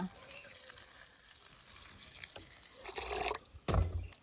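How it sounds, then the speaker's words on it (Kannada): Water sloshes and splashes close by as flattened rice is washed in a bowl, with louder bursts of pouring and rinsing near the end. "ಈ ಅವಲಕ್ಕಿ ಸ್ವಲ್ಪ ನೀರು ಹಾಕಿ ತೊಳೆಯುವ"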